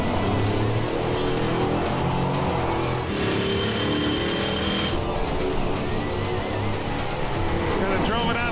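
A 1968 Chevy Camaro SS makes a drag racing pass, its engine roaring loud and steady throughout as it revs and shifts, with a high whine midway and a faint voice near the end.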